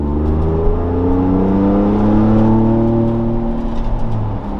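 Ford Bronco fitted with an AWE off-road exhaust revving steadily and loudly close by, a deep droning engine note rising and holding through one sustained rip with no talking.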